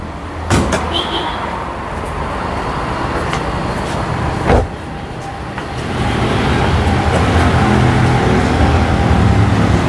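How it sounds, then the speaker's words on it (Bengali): A used Toyota Vitz G package with a 1300cc engine idles with a steady, smooth hum that grows slightly louder after a few seconds, with a couple of sharp clunks near the start. "ইঞ্জিনটা দেখেন একবার মাখন ইঞ্জিন একবার ফ্রেশ এবং নিখুঁত"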